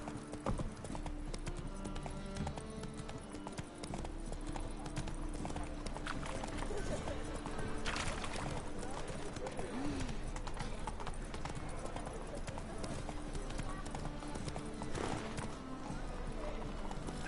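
Roach the horse clip-clops steadily through The Witcher game world, hooves thudding in an even walking rhythm over game music and ambience, with an occasional whinny.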